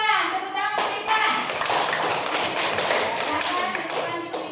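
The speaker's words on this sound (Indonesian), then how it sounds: "Tepuk tangan untuk Irfan." A group bursts into steady clapping to applaud Irfan after a short pause, the dense patter continuing evenly with voices murmuring underneath.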